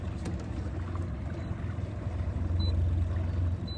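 A steady low boat motor rumble idling continuously in shallow water, close by, with a faint watery wash and no talking.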